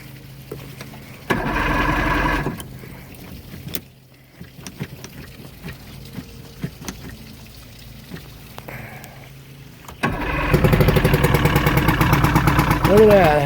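A Johnson 115 HP two-stroke outboard motor on a boat cranks and catches, settling into a loud, rough idle, with a burst of cranking early on and a stronger steady run toward the end; voices talk between the attempts.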